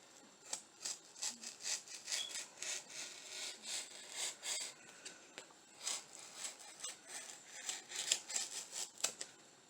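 A craft cutter slicing through material laid over a cardboard box, giving a series of close, quiet scraping and rasping strokes in an uneven rhythm with no voice.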